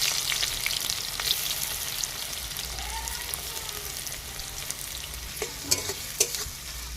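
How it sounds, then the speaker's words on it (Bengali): Onions fry in hot oil in a pan, a steady soft sizzle with light crackles and a few sharper pops near the end, with no talk over it. "আমি তেল দিয়ে দেব, পেঁয়াজগুলো ভেজে নেব"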